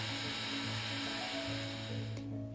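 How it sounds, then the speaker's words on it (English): A Dremel rotary tool etches a vent opening into the center of a custom nail desk surface, giving a steady, close, high-pitched whine that shifts slightly in pitch as the bit cuts. "Now the center is just getting etched in with a Dremel to accommodate the vent for the dust vacuum."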